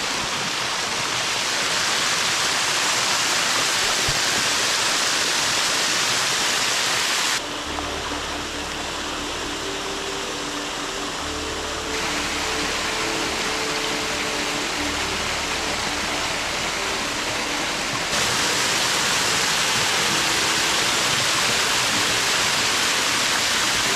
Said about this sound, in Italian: arrivo ad un'altra piccola cascata